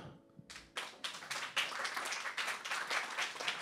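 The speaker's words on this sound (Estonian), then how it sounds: "Tehke aplaus." Audience at a comedy show breaks into applause, scattered claps building quickly into steady, fairly close clapping from a small crowd.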